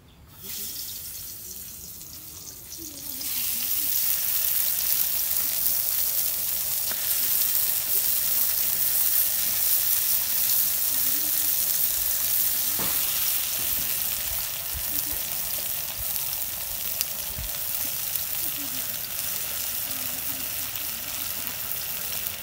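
Brinjal (eggplant) slices fry in a pan with a steady, loud hiss of sizzling oil that starts after a quiet moment and continues unbroken, with no speech.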